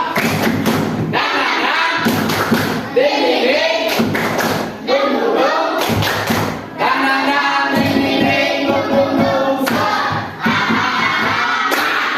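Elementary schoolchildren in a classroom run through a second spirit-clap routine, repeated sets of rapid claps and desk-like thumps punctuating loud rhythmic group chanting, near and energetic across the whole stretch.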